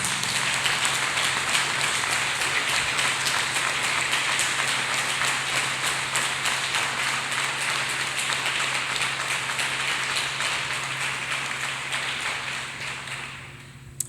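A church congregation claps together in praise of Jesus Christ, a dense, steady wash of hands that carries on for several seconds at an even level and then tapers off toward the end.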